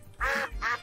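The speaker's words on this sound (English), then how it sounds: "Is that like an actual duck noise?" Two short nasal duck quacks from a creature in the Temtem video game, close and clear, spaced about a third of a second apart.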